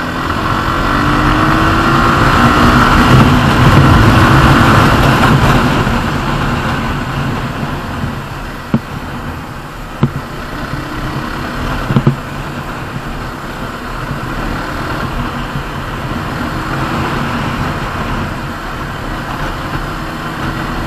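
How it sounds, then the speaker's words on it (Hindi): Road traffic noise surrounds a rider on a Suzuki Gixxer SF BS4 motorcycle in busy lunchtime traffic: a steady, loud rumble of engines and wind that eases after the first few seconds, broken by a few brief knocks. "ट्रैफिक बहुत हो रहा है भाई"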